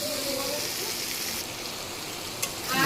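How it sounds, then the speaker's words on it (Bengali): Fried potatoes sizzling in a pan of spiced eel curry, a steady close hiss of oil with a small clink near the end. "এই যে আলু ফ্রাই"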